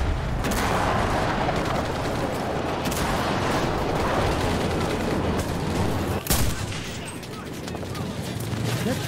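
Heavy battlefield gunfire from the World War II shooter Enlisted in the Battle of Berlin, with constant overlapping rifle and machine-gun shots and a loud crack near the end, all dense and close.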